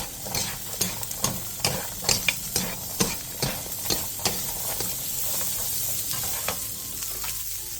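Garlic scapes stir-fry in oil with salt over high heat. Rhythmic spatula taps and scrapes come roughly every half second over a steady sizzle, then give way to a plain continuous hiss, close and with no speech.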